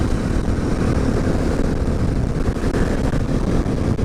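A motorcycle rides down a street, its engine mixing with a continuous rush of wind noise at a steady level throughout, with no talking.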